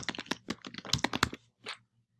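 A name being typed on a computer keyboard, a quick run of crisp key clicks lasting about a second and a half, followed by one last isolated keystroke, close and fairly quiet with no talking.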